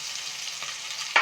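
Curry leaves hit hot oil with a bright, steady hissing sizzle, close and fairly loud, swelling into a sharper crackling burst at the very end.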